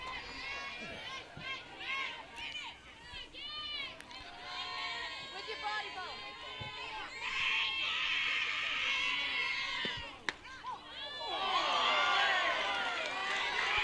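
Softball fans in the stands at a high school varsity game, Peabody against Wachusett Regional, react unhappily to a call with a busy mix of many voices, shouts and whistle-like cries that swell loudly near the end.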